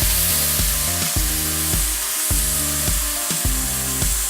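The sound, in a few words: steak sizzling in grill pan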